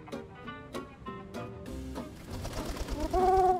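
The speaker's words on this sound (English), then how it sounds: "Right now, this little guy is your only pigeon." A pigeon coos in the video game Bum Simulator, with several short repeated calls and then a louder, longer coo near the end over light game background noise.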